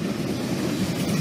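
A short auto rack freight train rolls past in Pennsylvania, giving a close, steady low rumble with faint rail clatter over one brief stretch and no voices.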